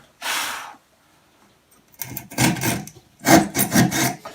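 A hand tool rasps and scrapes on a living room floor in short bursts: one brief stroke, a pause, then a cluster of rapid rubbing strokes, close and fairly loud.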